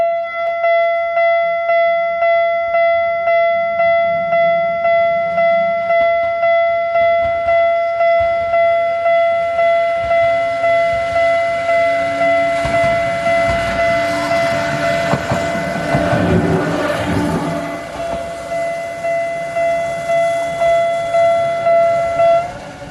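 A train pulls into a station near Osaka with a sustained, loud tonal hum and rhythmic rolling clatter, swelling to a louder rush near the end of its approach.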